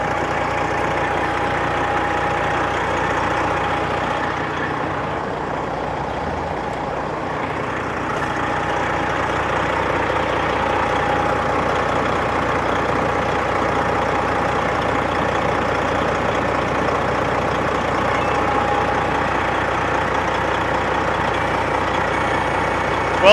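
Diesel engine of a cabover truck idling steadily nearby, a continuous low rumble with a constant hum that holds even throughout with no talk.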